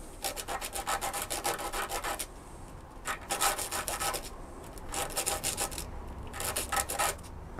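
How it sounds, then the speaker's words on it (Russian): Fine 150–180 grit sandpaper rubs burrs off a soft metal tube cut with an angle grinder. Rapid back-and-forth rasping strokes come in bursts with short pauses, close and moderately loud. "берем наждачку мелкозернистостью, там 150-180, и убираем вот так аккуратно здесь заусенцы"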